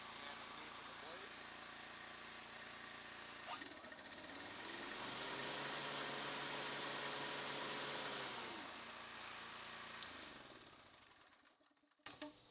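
Blade engaged on a 2015 Toro Timemaster electric-start lawn mower, its engine droning steadily and loud close by, the pitch rising and holding as the blade spins up, then easing off before the motor cuts near the end.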